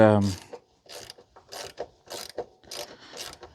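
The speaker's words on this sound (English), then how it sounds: "Now I'm using a longer socket on the inside" A ratchet turns a long socket on a hitch nut in a series of short, close bursts of sharp metallic clicking separated by brief pauses, with no talk.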